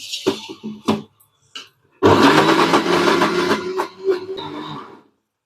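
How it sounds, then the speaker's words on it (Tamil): A mixer grinder grinding moong dal into a smooth batter for murukku starts with a few short pulses, then runs as a loud, steady whir for about three seconds before winding down and stopping. "நல்ல மையாக அரைச்சி எடுத்தாச்சுங்க"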